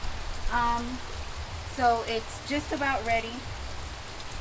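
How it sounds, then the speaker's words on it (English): Rain falls steadily outdoors beside a smoker during a cookout, a soft continuous patter under a man's brief speech. "It has started to rain"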